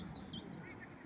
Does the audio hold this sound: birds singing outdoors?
yes